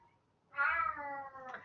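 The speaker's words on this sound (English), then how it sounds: "That's my cat, making it very clear that he is not happy" A cat lets out a drawn-out, wailing meow that rises sharply and holds, tonal and fairly close, with a short second cry at the end.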